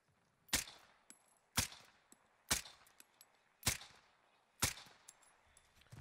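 Five evenly spaced rifle shots from an AK74u in a video game, each a sharp, loud crack with a brief metallic ring, roughly one second apart, with no talking.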